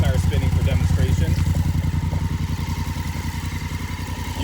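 A motorcycle on its center stand runs with the rear tire spinning: a steady, pulsing mid-pitched engine drone with fast, even firing beats, close, while someone talks over it.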